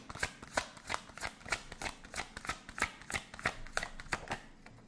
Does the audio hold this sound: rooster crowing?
no